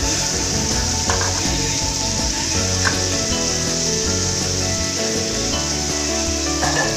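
Mutton pieces for Dindigul Thalappakatti-style biryani fry loudly in a pan with mint and coriander, a dense steady sizzle with occasional stirring knocks.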